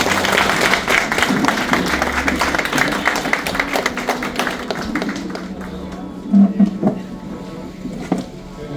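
An audience at a railway track maintainers' yearly meeting claps to welcome a guest, brisk dense clapping close by that gradually tapers into sparser claps and a few thumps.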